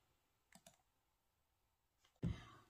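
A computer mouse clicks twice in quick succession, faint and close, then a louder rustle follows after a short quiet pause.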